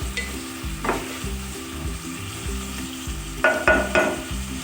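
Biryani ingredients frying in oil until lightly browned, a continuous close sizzle with rhythmic scraping stirs and a few clattering utensil knocks near the end, no talking.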